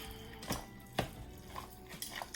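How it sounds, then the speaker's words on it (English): A spoon stirring white sharp cheddar into a squash casserole, giving soft, close scraping and a couple of light clinks against the dish in a short burst. "Then I'm going to put in the white sharp cheddar on it. And then I'm going to give it a stir, okay?"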